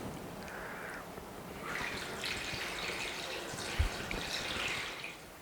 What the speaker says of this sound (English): Let's pour back in some of our juice.